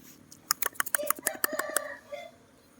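A nearby rooster crows and clucks in a rapid burst of short, loud calls, then trails off into a lower final cluck.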